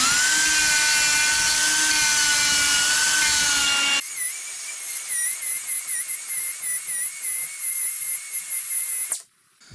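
A high-pitched air sander whines steadily while smoothing sheet metal edges on air-cooled VW tinware, its tone shifting partway through, then cuts off abruptly near the end.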